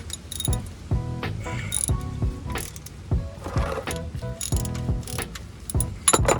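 Ratchet and socket working a bolt loose, a series of close metallic ratcheting clicks and clinks in uneven bursts, with occasional tool knocks.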